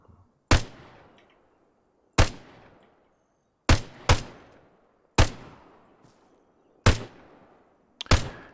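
Single-shot rifle fire in the Arma 3 Contact DLC, seven sharp, loud reports spaced roughly a second or more apart, each followed by a long rolling echo tail, with no voices.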